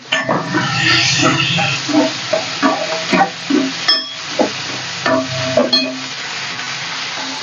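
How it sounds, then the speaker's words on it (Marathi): Two onions sauté in oil while a spoon stirs them in rhythmic, repeated scraping strokes over a loud, close sizzle. "त्यासाठी मी इथं दोन कांदे घेतले तेलामध्ये हे छान आपल्याला परतून घ्यायचे"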